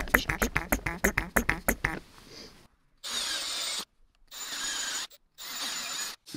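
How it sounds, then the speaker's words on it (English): A power drill countersinking screw holes in wood for a DIY camp sink, three short bursts of whirring, each about a second long, separated by brief pauses, following a stretch of talk. "I'm just countersinking these just because my screws aren't that long."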